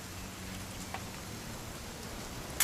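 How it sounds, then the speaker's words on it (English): Steady light rain falls outdoors as a faint, even hiss of drops that continues throughout, ending with a brief louder knock. "It's gonna rain the whole weekend, isn't it?"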